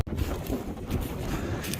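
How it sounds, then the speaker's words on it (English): Wind rumbles and buffets outdoors, a low, continuous blustery noise with gusty swells and no other clear sounds. "It is quite windy out here today."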